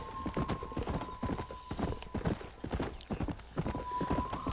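Rapid clip-clop of hooves galloping steadily in the video game Red Dead Redemption, close and fairly loud, with a faint tonal hum drifting in the background and a brief whinny-like call.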